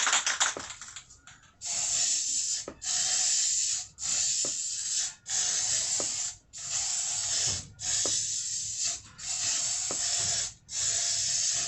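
Aerosol spray paint can hissing in repeated bursts of about a second each, separated by short pauses, close and loud, used on the front trim of a 1995 Ford F150 with the 4.9L engine; the final bursts sputter as the can runs low.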